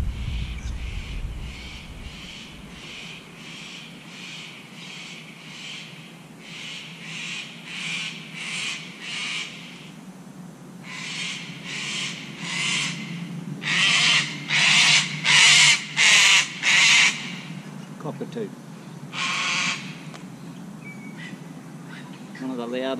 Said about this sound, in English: One of the loudest birds in the world.